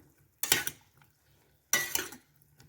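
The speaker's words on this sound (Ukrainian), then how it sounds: "перемішуємо." A spoon scrapes and clinks around a metal pot of boiling water and button mushrooms in two short bursts, close and fairly crisp, with quiet pauses between.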